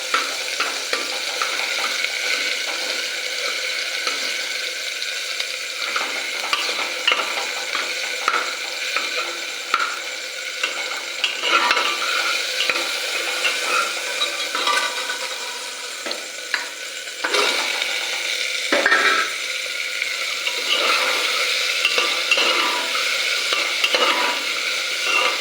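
Chopped vegetables stirred and fried in a pan with tomato for pulao, a continuous loud sizzle with rhythmic scraping and rattling of a spoon against the pan, close up and without talk.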